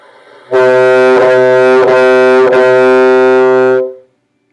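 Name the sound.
bassoon tongued articulated notes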